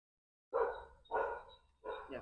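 A puppy gives three loud, close barks in quick succession, each a short burst with a brief pause between.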